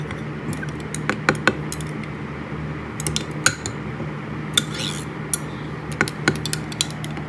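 A spoon stirs colorant drops into a cup, making a steady series of small, close, clinking taps against the cup with brief pauses, heard alone.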